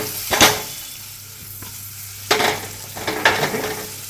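Carrots and capsicum stir-fry in butter over a high flame, a steady sizzle broken by several sharp scraping stirs of a spatula in the pan, with no talking.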